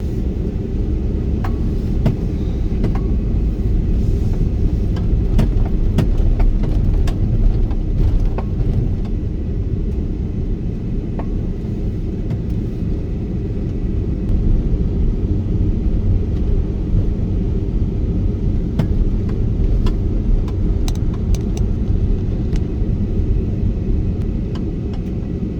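Steady low rumble of a car interior while driving along, continuous broadband road and engine noise with no talk and occasional faint clicks.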